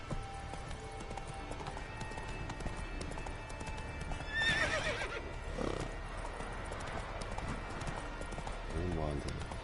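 A horse gallops with steady clip-clopping hooves and lets out a neigh partway through, in the video game The Witcher 3, mixed with game sounds and a faint voice.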